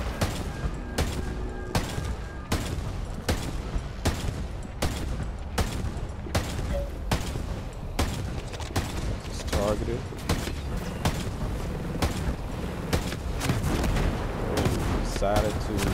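Repeated mortar and weapon fire in a Ghost Recon Breakpoint fight against a Behemoth, a steady series of loud booming impacts over dense rumbling combat noise, with voices talking throughout.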